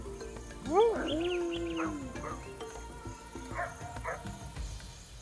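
African wild dogs in the wild give a few high, bird-like chirping and twittering calls over a low outdoor background, with a voice faintly present.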